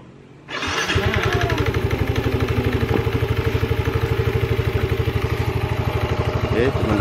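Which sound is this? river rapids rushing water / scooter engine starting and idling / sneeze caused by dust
scooter engine starting and idling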